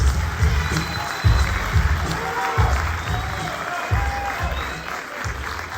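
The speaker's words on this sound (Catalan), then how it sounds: "fort aplaudiment per nosaltres" Applause from a concert crowd, a broad continuous clapping wash heard over a heavy rhythmic low beat pulsing about every second and a half, with faint voices in the mix.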